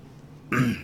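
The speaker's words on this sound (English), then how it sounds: "pardon me, I need a cough" A single short, throaty cough or throat clear close to the microphone, brief and isolated against a quiet background during a writers' workshop discussion.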